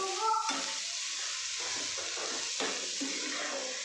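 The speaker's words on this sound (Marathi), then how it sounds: "मी आता गाजर पण आपले केलेलं असं एकजीव करून घेते. तुपात मिक्स करून घेते चांगलं मी त्याला पॅनमध्ये" Grated carrots being stirred in ghee in a pan for gajar halwa, with a steady sizzle of frying under repeated soft scraping strokes of the spoon across the pan, moderately close and without speech.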